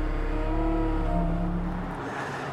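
Engine of a new Bobcat S76 skid steer loader, brought back into operation after a swash plate fault, running steadily close by with a low, even drone that drops away near the end.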